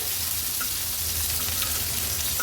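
Boita fish frying in a small amount of oil, prepared Agri-Koli style, give a steady, even sizzle that holds at the same level throughout, with no voices over it.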